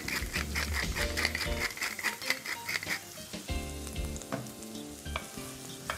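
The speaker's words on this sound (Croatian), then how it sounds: "I na lagane vatri pržimo dok povrće ne omekša." Chopped onion and garlic fry in butter in a pan over heat, a steady close sizzle with crackling pops and occasional stirring clinks, with no voices.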